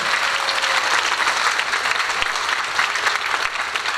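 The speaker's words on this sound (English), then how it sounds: "Give yourself a round of applause" A high school auditorium audience at a 9th grade concert gives a sustained round of applause, dense steady clapping from many hands filling the room without a break.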